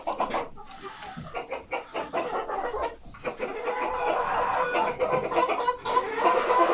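Chickens cluck and murmur nearby at their nesting boxes, a busy chorus of short calls that grows denser and louder toward the end.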